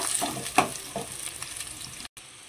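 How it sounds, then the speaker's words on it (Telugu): Chopped onions and green chilies fry in a couple of spoons of hot oil for noodles, a steady close sizzle with a few sharp pops and a brief stirring scrape before a short cut-out. "ఆయిల్ వేడైన తర్వాత ఉల్లిపాయ ముక్కలు పచ్చిమిరపకాయలు వేసుకుని అయితే కలుపుకోవాలి"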